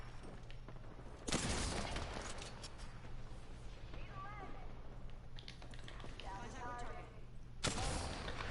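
A weapon fired in a video game, with two sharp, loud shots standing out against a constant low hum, and someone talking quietly in the background.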